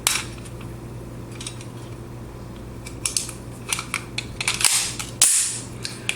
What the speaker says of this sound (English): Now the gun cycles, or I eject the round on accident.